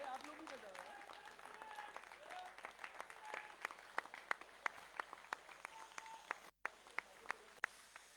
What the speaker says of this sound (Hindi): जबरदस्त ताली होनी चाहिए रनर्स अप टीम के लिए